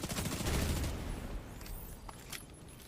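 Short bursts of tap-fired gunfire in the shooter game The Division 2, a rapid clattering volley at the start that fades into scattered quieter shots and faint footsteps, with no talking.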